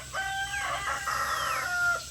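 Backyard chickens cluck close by while a rooster crows, a brief burst of fowl calls with a couple of drawn-out crowing notes.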